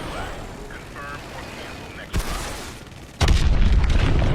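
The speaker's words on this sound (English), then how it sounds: "Lock onto those hard points and hit them with your missiles." Missile strikes on hard points in the video game Call of Duty: Advanced Warfare, a sharp blast followed by a rumbling, heavy boom with roaring debris, mixed with game dialogue and engine noise.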